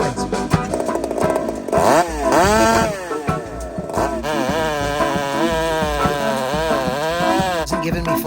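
A Husqvarna 372 XP hybrid chainsaw engine revs hard toward full throttle, its loud, buzzing note rising and falling in repeated surges, with a person's voice intermittently heard over it.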